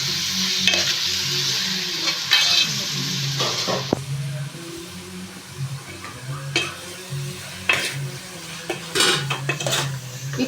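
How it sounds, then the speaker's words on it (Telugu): Marinated chicken frying in a mint and coriander paste for chicken biryani, with steady sizzling under repeated spoon stirring and scraping clinks against the pan, close and moderately loud, no talking. "వేసేసి ఒక 5 నిమిషాలు పచ్చివాసన పోయేంత వరకు బాగా ఫ్రై చేయాలి."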